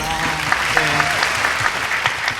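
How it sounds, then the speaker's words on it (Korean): Audience applause in a studio setting, steady clapping throughout with some faint voices and a few sharper claps standing out over the crowd. "박수 한번 주세요"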